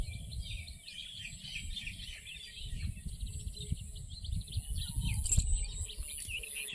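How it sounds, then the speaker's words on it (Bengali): Small birds chirp and call repeatedly in trees in the background, high and fairly faint, over a low rumbling outdoor ambience on a foggy morning. "এই যে এখানে পাখি ডাকাডাকি করছে"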